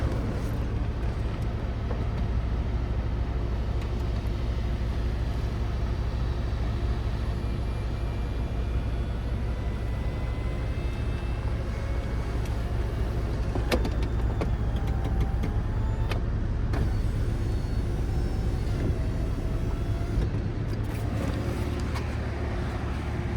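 Convertible top of a high-mileage Porsche 997 operating, a long steady motor drone with a low hum lasting throughout, plus a few faint clicks and whirring shifts partway through, no talking.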